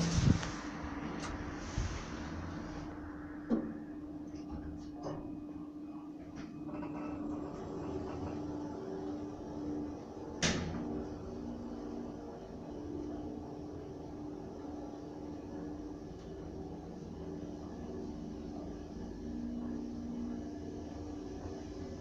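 A Fujitec elevator car travels upward with a steady low mechanical hum and faint whirring, broken by a few sharp clicks and knocks near the start and midway, with no talking.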